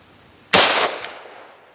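A single sharp Mini 14 rifle shot cracks out loud and close, its report ringing and decaying over about a second, with a faint second knock following; no talking.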